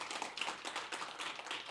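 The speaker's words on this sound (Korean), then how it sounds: "다시 한번 박수 부탁드립니다." Scattered hands clapping from an audience at the opening ceremony of an academic conference marking an independence declaration anniversary, a brief, moderately faint patter of claps with no talk.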